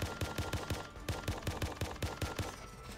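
Gunshots in the Neptunia fan game Dimension Breaker, a hack-and-slash shooter: a steady, evenly spaced stream of punchy automatic shots, about four per second, close and moderately loud, with a brief pause midway.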